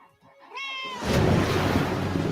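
A cat in a movie trailer lets out a single clear, drawn-out meow, close and loud, followed by a swelling orchestral music bed.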